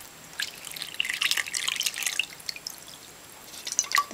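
Ordinary tap water is poured over a silk hanky in an oven-safe dish, giving a close, light splashing trickle with scattered drips over a few seconds, no voices.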